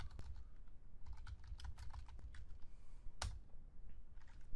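Typing on a computer keyboard, quick irregular close-up key clicks with one louder clack near the end, continuous over a quiet background with no talking.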